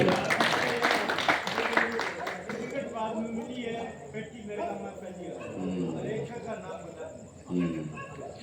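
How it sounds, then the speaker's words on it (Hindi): At a political campaign rally in Sarsana, Haryana, the audience claps briefly for an elderly man. The clapping is a short burst at the start, then gives way to someone speaking for the rest. "अंकल जी के लिए, बाबू जी के लिए ताली बजा दो।"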